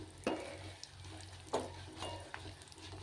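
Spices and turmeric hit hot oil for tempering, giving a few soft sizzling bursts over a quiet, low background.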